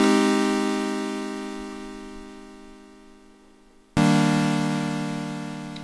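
An Elektron Digitakt plays back a sustained synth chord that slowly decays, then a second chord strikes abruptly and rings on, clear and alone with no talking.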